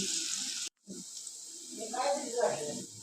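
Onion bhaji frying in hot oil: a steady, close sizzling hiss that continues throughout, broken only by a brief cut, with someone speaking over it.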